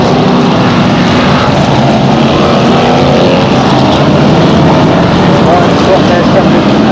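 V8 stock cars thunder around Bovingdon Raceway in a 15-lap race, their big engines merging into a loud, continuous roar that holds steady and close throughout.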